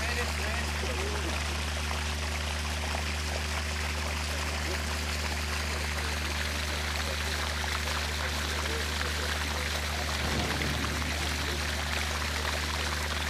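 Steady, loud rush of water forced past a small temporary flood barrier of plastic sheeting, set up as mobile flood protection by a fire brigade. A continuous flowing roar runs unbroken throughout with no clear talk.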